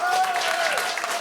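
Audience applause at a live Tsume event celebrating a statue shop, a dense, steady wash of clapping heard up close with a faint tone running underneath.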